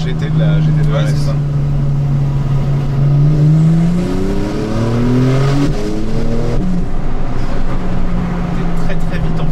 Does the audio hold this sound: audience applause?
no